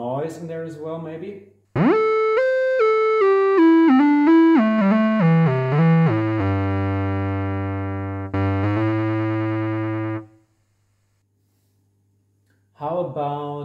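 Farfisa Pergamon organ synth voice sliding through stepped pitches with portamento, then holding a sustained buzzy chord with added noise, loud and alone before cutting off, followed by a brief return.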